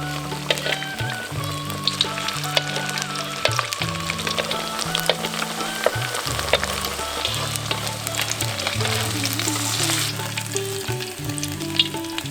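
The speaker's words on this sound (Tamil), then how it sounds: "நம்ம தயார் செஞ்ச பன்னீரை எண்ணெயில் போட்டு பொன்னிறமாக ஆகிற வரைக்கும் பொறிச்சு எடுத்துக்குவோம்" Cubes of homemade paneer frying in oil until golden, a dense continuous crackling sizzle close up with occasional stirring, under soft background music.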